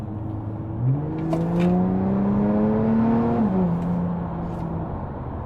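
An Audi A5 3.0 TDI tuned to about 395 bhp launches hard on launch control, its diesel engine note rising steadily through the revs and then dropping at a gearchange, loud and close with no talk.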